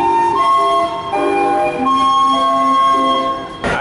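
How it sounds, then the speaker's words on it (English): Steamboat Natchez whistle on a New Orleans jazz brunch cruise on the Mississippi, playing a melody of sustained tonal notes that shift in pitch, steady and fairly loud over ambient background. "You can hear the steamboat in the background playing music on its whistle."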